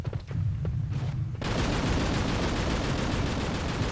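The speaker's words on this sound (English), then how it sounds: "that's the anti-air cannon that's firing." Anti-air cannon fire in the video game Fur Fighters, a dense, loud, continuous barrage that kicks in abruptly after a few quieter scattered pops and rumbles.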